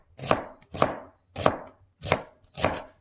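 A knife chops a shallot into fine brunoise on a cutting board, five distinct, evenly spaced sharp strikes sounding close and clear with silence between them.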